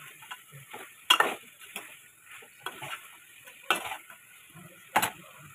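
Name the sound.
stirring potato chicken curry with tomato, salt, chili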